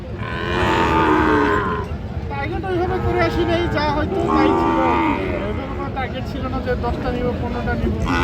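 Sahiwal cattle at a livestock market in Brahmanbaria, Bangladesh, give two long, loud moos, each lasting over a second, over a steady crowd babble of people talking nearby.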